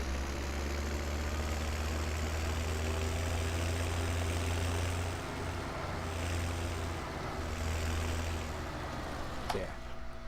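Steady low tractor engine drone idling at close range in Farming Simulator 17, a constant rumble with faint wind noise and a slight shift in pitch midway.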